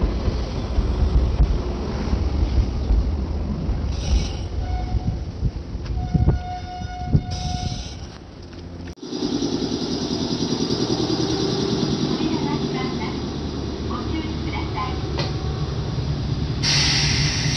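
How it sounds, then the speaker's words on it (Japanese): A Nankai Takashinohama Line commuter train arrives and runs along the track, a long, loud rumble of wheels and motor with tonal whines and squeals, a brief dip, then steady close rolling noise with wind buffeting. "高篠浜から先ほどの電車が折り返してきました。"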